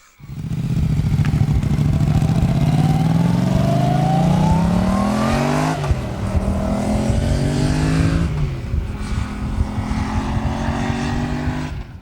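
A Yamaha MT-07 motorcycle with its exhaust dB killer removed revs hard and very loud, its exhaust roaring and rising in pitch through repeated throttle sweeps, close by and continuous.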